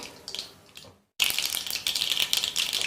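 Spices for tempering splutter in hot oil, a short crackle, a brief gap of silence, then dense close popping and spitting with bright, uneven bursts.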